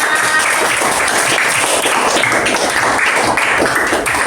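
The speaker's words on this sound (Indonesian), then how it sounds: "Tepuk tangan untuk kita semuanya." A classroom of students applauds steadily and loudly, dense continuous clapping with a few scattered voices underneath.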